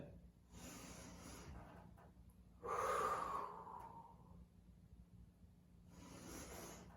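Slow, controlled breaths during a Pilates exercise rise and fall three times, soft and close, with one stronger, rushing exhale in the middle against a very quiet room.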